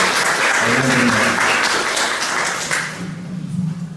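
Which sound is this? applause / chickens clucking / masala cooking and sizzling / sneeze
applause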